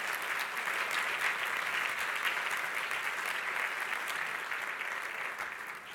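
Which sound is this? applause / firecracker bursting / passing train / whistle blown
applause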